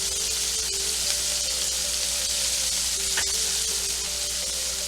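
Scallops pan-seared in brown butter give off a steady, close sizzle and hiss, constant throughout with no talking.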